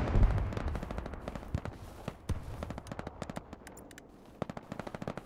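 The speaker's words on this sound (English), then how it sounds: "Laying down strafing run in C6." Strafing-run gunfire in Hell Let Loose, a World War II shooter, as rapid crackling bursts and scattered distant shots. The fire sounds fairly faint and far off, with no talking.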